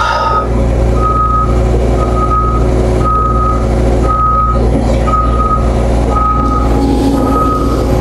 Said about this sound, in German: Wir fahren rückwärts.